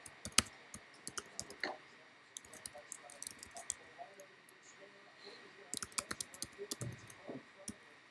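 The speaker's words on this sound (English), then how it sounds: "I'll type it in here as well." Keys clicking on a computer keyboard in short irregular bursts, with scattered sharper clicks, during a trading card box break; moderately close and fairly quiet, with low background noise and no clear talk.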